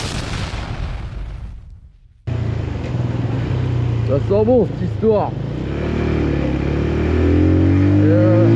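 A Benelli Leoncino 125 motorcycle ridden on the road, its engine droning steadily and rising in pitch as it revs and pulls, with wind noise and someone talking over it.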